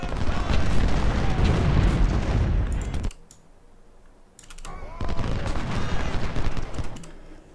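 Musket volleys and artillery fire from the Ultimate General: Civil War battle at Saunders Farm, with dense, loud crackling gunfire and booms that pause briefly near the middle before resuming.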